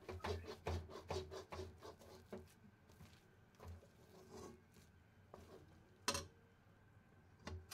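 A spoon scrapes and rubs masala around a pan for masala dhoka in quick rhythmic strokes that slow into scattered scrapes, close but fairly quiet.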